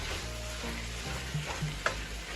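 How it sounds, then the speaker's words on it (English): Cheesesteak pasta with yellow onion being mashed and stirred in a pan, a spoon doubling as a masher; a steady sizzle runs throughout with a few soft scraping strokes and one sharp clink near the end. "we're going to take this, mash and stir."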